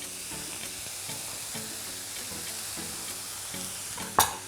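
Mushrooms and garlic fry together in one pot over high heat, a steady hissing sizzle with a faint repeating rhythmic background, ending in a single sharp clack of a utensil; close, moderately quiet, no voices.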